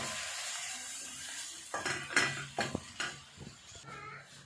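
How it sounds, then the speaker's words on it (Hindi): Ginger and garlic sauté in a pan over a soft background sizzle, with a few sharp scrapes and clinks of a spatula stirring against the metal near the middle. "अब हम इसको अदरक लहसुन को 2 मिनट भूनेंगे"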